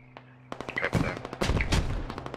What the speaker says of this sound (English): Got that 50 cal in the C6 machine gun.